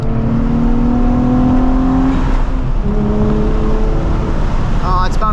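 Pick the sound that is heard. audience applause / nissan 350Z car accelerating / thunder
nissan 350Z car accelerating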